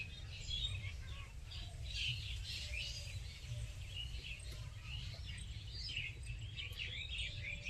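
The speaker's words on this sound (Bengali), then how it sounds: "এখানে গুনগুন গুনগুন করে কত পাখি ডাকছে কিচির মিচির করছে" Many birds chirp and squawk in a village bamboo grove, overlapping high calls repeating throughout over a low steady background hum, no talking.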